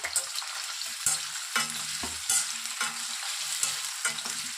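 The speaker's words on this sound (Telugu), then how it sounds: "ఇప్పుడు మనము బాయిల్ చేసుకున్నటువంటి గోబీని కొద్దిగా లైట్గా ఫ్రై చేసుకోవాలండి." Boiled cauliflower florets being lightly fried and stirred in a pan, with a steady sizzle broken by repeated clinks and scrapes of a spoon against the pan.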